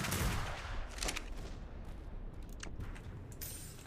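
Bursts of gunfire crackle in a military video game, aimed at a mortar crew: several sharp volleys of shots at moderate distance, loudest at the start, then scattered reports.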